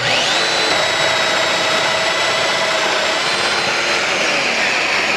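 A Festool Domino XL joiner whines loudly and steadily up close as it plunge-cuts a mortise, a high-pitched motor and cutter roar holding for several seconds before cutting off abruptly.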